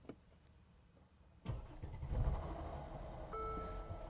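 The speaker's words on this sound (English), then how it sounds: "Gonna start the vehicle, make sure" A Mercedes ML350 W166 engine cranks and catches at about one and a half seconds, then settles into a steady idle close by, with no voices.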